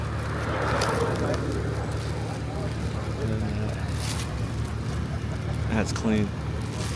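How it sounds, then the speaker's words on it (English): A Nissan GT-R warms up at a Friday night car meet at Daikoku, its steady low engine rumble running throughout while people chat nearby. "All right, GTR is warming up."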